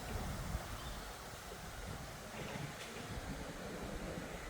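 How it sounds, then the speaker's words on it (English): Wind blows through trees in a backyard, a steady, broad rushing whoosh with gentle gusty swells and some microphone buffeting, no voices heard. "This is nice. I like this wind."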